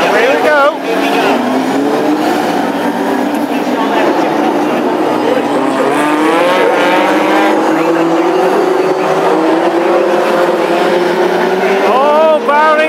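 Classic hot rod race cars at an evening oval meeting roar loudly together as the championship final gets under way, engines revving and wailing continuously with rising pitch sweeps, close and dense throughout.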